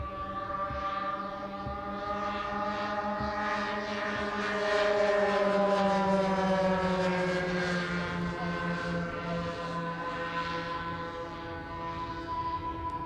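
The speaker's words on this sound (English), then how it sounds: "4 engines singing." A large scale model Boeing 747 with four engines flies overhead, its steady multi-tone engine whine sustained and fairly loud throughout, pitch shifting slightly as it passes.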